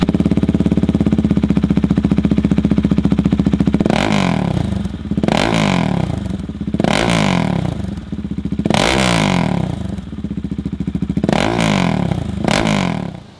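A warm Husqvarna Svartpilen 701 motorcycle with a BW Performance kit idles loud and close with a steady throb, then gets five or six short, light throttle blips that rise and fall in a rough rhythm.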